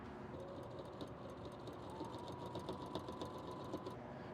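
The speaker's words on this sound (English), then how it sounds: "and then sew these down." A sewing machine stitches down pieces of fabric for a pair of loopless shorts, a steady, close mechanical whir with rapid needle clatter running continuously and alone.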